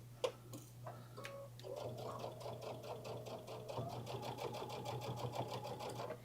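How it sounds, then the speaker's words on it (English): Embroidery sewing machine with a 90/14 embroidery needle pounding through many layers of fabric on a straight stitch line, a fast steady clatter of stitches over a low motor hum, close and alone. "It's pounding through. There's lots of layers here."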